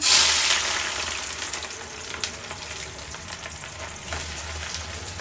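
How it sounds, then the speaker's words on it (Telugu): Thinly sliced onions deep frying in hot oil give a loud, steady, close sizzle with crackling bubbles that stays constant throughout and has no voices over it. "సన్నగా పొడవుగా కట్ చేసిన ఆనియన్స్ డీప్ ఫ్రై చేసుకోవాలి"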